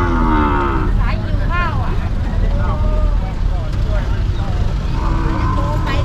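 Fattened cattle low at a livestock market in Lop Buri, Thailand, giving repeated deep moos near and far over a constant crowd murmur and background engine noise. People talk nearby.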